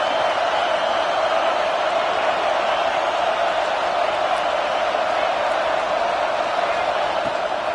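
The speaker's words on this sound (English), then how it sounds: "This crowd ready to make its presence known." A large stadium crowd at an Arizona vs Texas college football game roars as a steady, dense wall of noise that never lets up, loud and continuous with no clear voices standing out.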